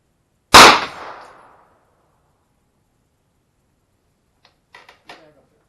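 Ruger 9mm carbine firing outdoors, one sharp loud shot with a short decaying echo, followed by silence and a few faint clicks and clatters.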